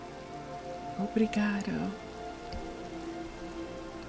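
Minecraft rain falls through trees as a steady hiss that runs throughout, while someone says a brief word over it near the middle.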